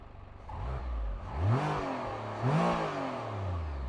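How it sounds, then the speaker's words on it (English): A 2023 Can-Am Spyder RT three-wheel motorcycle engine cranks, fires up and revs twice in rising swells before settling into a steady, mechanical-sounding idle, close and fairly loud. "Pretty mechanical sort of sound from this powertrain."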